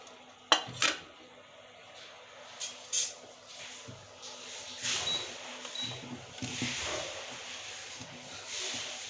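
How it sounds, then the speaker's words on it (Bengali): Fried dahi vada fritters are lifted out of a pan of oil, with metal utensil clinks and scrapes against the pan amid a soft sizzling background, fairly quiet. "বড়াগুলো ভাজা এখন আমি তুলে নিচ্ছি"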